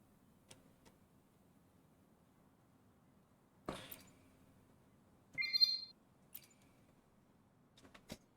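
Quiet video game interface sounds: scattered soft ticks and clicks, then a brief two-tone electronic beep near the middle, all faint and set against near silence.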